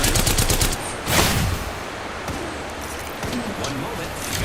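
Bursts of rapid gunfire from a shooter video game, a loud rattling volley at the start followed by scattered, quieter shots and battlefield noise.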